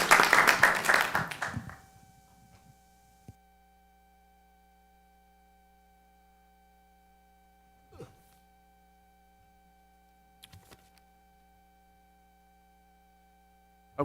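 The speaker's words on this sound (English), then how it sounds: "Let's give a round of applause." At a city council meeting, an audience's round of applause rings out loud for under two seconds, then cuts off into near silence broken only by a couple of faint knocks.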